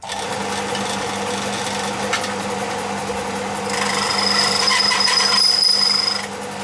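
Tool grinder sharpening a high speed steel cutting tool, a steady mechanical hum with a rising, bright grinding whine in the second half that fades at the end, no voices.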